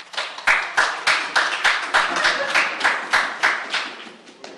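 Applause from an audience at a city transportation committee meeting, a steady run of clapping with bursts of hands pulsing about every third of a second, moderately loud and close, with no talking over it.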